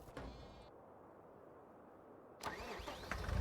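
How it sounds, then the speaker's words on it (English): A tractor engine in the Farming Simulator video game, on a Scottish Highlands farm, cranks and catches after a quiet stretch, then settles into a rising mid-pitched running rumble, fairly faint and with no talk. "We can start the engine here."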